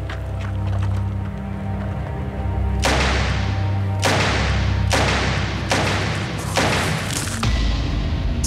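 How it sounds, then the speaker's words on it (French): Five sharp gunshots fired at an evening doorstep near Béziers, spread unevenly over about four seconds, each a loud broadband crack over a steady low background hum. "Cinq coups de feu."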